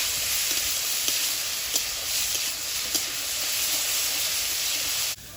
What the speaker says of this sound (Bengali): চিংড়ি মাছ দিয়ে আর একটু নেড়ে চেড়ে নেব